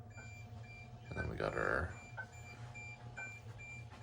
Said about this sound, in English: ICC 16-inch DT UK style button beeping over here